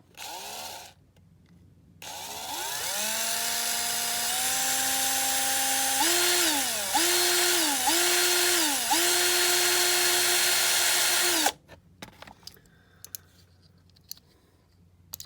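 A small high-pitched drill whines steadily for about nine seconds, dipping in pitch a few times as it bites, drilling out the rivet on the metal base of a Corgi Rockets diecast Cadillac Eldorado, close up and loud.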